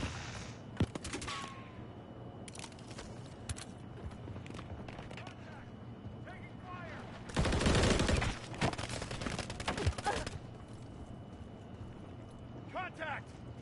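Gunfire in the Call of Duty Modern Warfare 3 beta, scattered sharp shots and a dense burst of automatic fire mid-clip amid game ambience, with a voice talking over the action.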